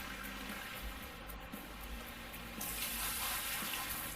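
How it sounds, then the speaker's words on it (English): Buckets of water pour over pay dirt in the game Gold Rush, a steady rushing wash of water that grows slightly brighter partway through, close and continuous with no speech. "so what we do is grab buckets of water"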